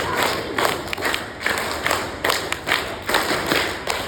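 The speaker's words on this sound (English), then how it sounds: "Give them a big round of applause." Applause and cheering for grade 3 students after their time management assembly performance: a dense crowd of clapping hands with scattered thuds and shouts, fairly loud and steady, rising and falling in bursts.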